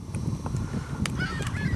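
Gulls calling near a carp-fishing spot, a few brief honking cries rising over steady low background rumble and bustle, fairly close and moderately loud.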